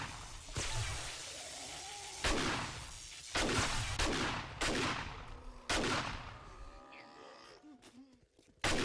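Shotgun blasts in the zombie survival game 7 Days to Die, several loud close booming shots spaced about a second apart, with groaning and whooshing game sounds between them.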